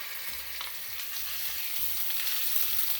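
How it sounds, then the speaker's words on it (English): Ginger garlic paste sizzles and fries in hot oil in a frying pan, a steady close crackling hiss with faint stirring. "the oil is already hot in my frying pan, so we'll add the ginger garlic paste to it"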